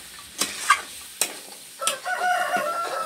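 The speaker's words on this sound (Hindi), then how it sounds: "अब गरम मसाला देखिए भून रहे हैं" Garam masala being roasted in a pan, with a few sharp scraping stirs and a soft sizzle rising toward the end, close and fairly quiet.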